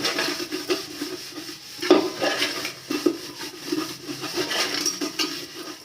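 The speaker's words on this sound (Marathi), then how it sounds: "आता याच्यावरती रांगोळी टाकायची आणि थोडं विम लिक्विड टाकायचं असं आणि आपल्याकडे जे स्क्रबर असतं ना त्याने असं टाकून घ्यायचं" Scrubbing of an aluminium pot with a scrubber, rangoli powder and Vim liquid: steady close rubbing and scouring strokes with occasional louder scrapes and clinks of metal, continuing for several seconds with no talk.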